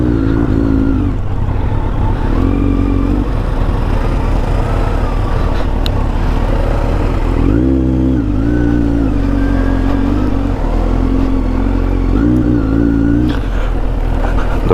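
A Kawasaki Z900 motorcycle on an off-road mountain trail, held in low gear, gives a loud, close engine drone that rises and falls through repeated revs and throttle blips, with no talk.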